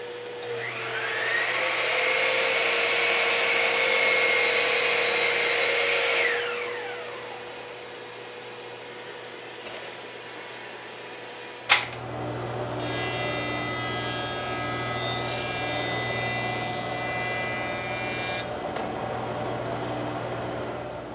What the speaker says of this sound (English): I'm gonna get that done, and then we'll start jointing and planing these boards.